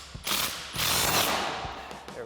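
A socket wrench ratchets hard on a 19mm steering nut of a Jeep Gladiator JT during a heavy-duty steering install, giving two loud, close runs of quick clicking with a brief pause between them.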